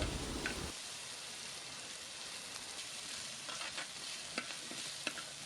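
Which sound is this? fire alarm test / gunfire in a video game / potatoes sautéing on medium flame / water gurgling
potatoes sautéing on medium flame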